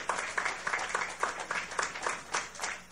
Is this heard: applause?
yes